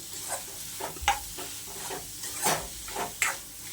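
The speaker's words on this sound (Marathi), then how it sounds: "आणि आता इथं आपण घालणार कालवं" Dried clams sizzling in a kadhai with onion and tomato, stirred with a spoon in a few distinct scraping strokes over a steady close frying hiss.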